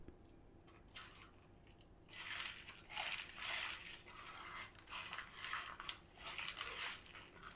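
Dry chili pepper and sugar mixture being crushed and mixed by hand for homemade spicy mixture snack, giving close, continuous crunching and gritty rustling bursts that grow louder after a quieter start, with no talking.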